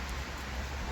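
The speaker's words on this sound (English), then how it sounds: "I know, I'm very wet, because it's raining quite hard." Heavy rain pours steadily on a wet morning, a soft, even hiss with no breaks and no voices, fairly faint overall.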